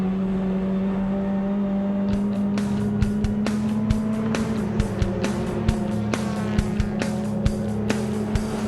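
TCR touring race cars at full racing speed at Queensland Raceway in an Australian series round, a loud steady engine drone with a pack running together and sharp passing bursts and gear-change transients.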